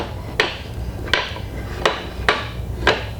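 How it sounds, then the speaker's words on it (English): Windlass brake on a luffing jib tower crane clacks five times at a steady interval of about seven tenths of a second, each a sharp metallic knock over a low mechanical hum, with no talking. "Listen for the clacking."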